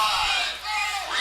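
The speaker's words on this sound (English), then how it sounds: "you got a few fans out there trying to get this crowd chanting defense now" A crowd of fans at a college football game against Columbia yells and chants in a loud, sustained roar of voices that briefly dips and then swells again.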